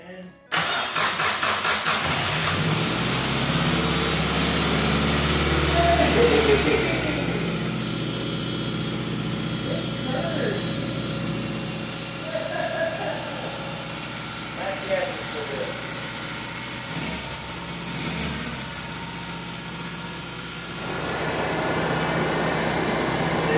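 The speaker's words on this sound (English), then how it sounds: "Try to crank it." A Geo Tracker engine cranks with a rapid starter churn, then catches and settles into a steady idle, loud and close in a garage, with people talking quietly over it.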